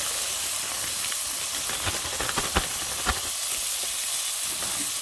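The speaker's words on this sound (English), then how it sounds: "I've got a bag of already cut up onions here. I'm going to go ahead and just dump those in right now too." Pre-cut onions dumped into a hot pan fill the scene with a loud, steady hiss and sizzle. A few soft knocks and clicks cut through the frying noise, and no one speaks.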